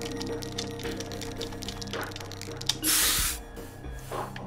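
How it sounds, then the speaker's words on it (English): A spray can hisses as graffiti is sprayed with a holo projector in the video game Hover: a short burst of loud, close spray lasting under a second, with softer game sounds before and a brief quieter puff afterward. "how do I spray graffiti?"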